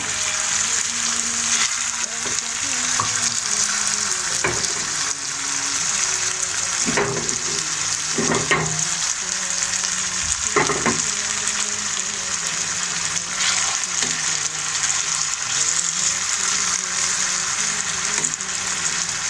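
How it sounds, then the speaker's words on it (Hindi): Potatoes fry in a hot pan with a loud, constant sizzle, broken by a few sharp scrapes and stirs. "दो मिनट हम आलू को फ्राई करेंगे"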